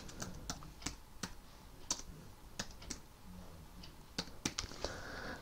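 Keys tap on a computer keyboard in irregular bursts of crisp clicks while a new Wi-Fi network name is entered, quiet and close with no voices.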